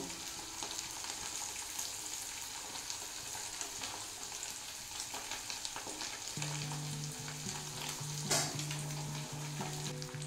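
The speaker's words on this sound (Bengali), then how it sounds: "পনিরটা ভাজা হয়ে গেছে, এটা খুব লাল লাল করে ভেজে নিয়েছি একটু।" Paneer pieces fry in hot oil for a palak paneer, a steady close sizzle throughout with faint stirring and a brief utensil clink near the end, no talk.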